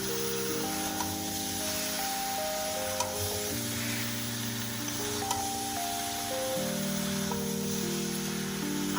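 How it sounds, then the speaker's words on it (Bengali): Cauliflower and prawns sautéing in a pan with fish added, a steady broadband sizzle running throughout under a faint tonal hum, with no talk. "আরও মিনিট তিনেক আমি এইভাবেই কষিয়ে নিচ্ছি"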